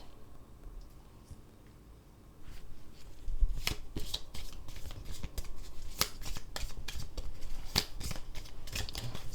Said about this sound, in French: Je vais prendre quelques cartes et puis après, on fera Lisa Love, réalisation de soi.